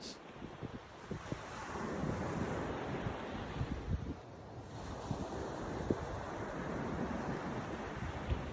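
Surf and wind on a beach, steady wash of waves with gusty wind rumble on the microphone throughout, no voices.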